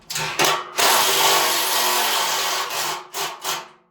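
A loud power drill whirs close up in a long sustained burst, bracketed by short bursts and grinding against wood, inside the cramped hull of a home-built personal submarine.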